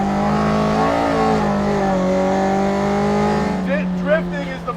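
An original Toyota AE86 drifting on a wet track in New Zealand revs loudly and close, its engine pitch rising, holding and sliding down in long sweeps, with a brief bit of talk near the end.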